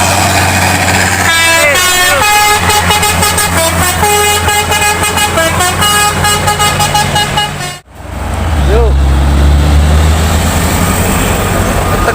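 A loaded Hino truck carrying cable drives past, its horn blaring a long melodic multi-tone sequence over a steady engine drone, then cutting off before a deep rumble continues.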